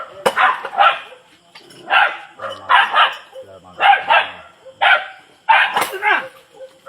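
A dog barks repeatedly in short, loud bursts with yelping tones, close by, with brief pauses between the barks.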